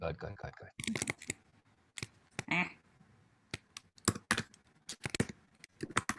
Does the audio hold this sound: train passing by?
no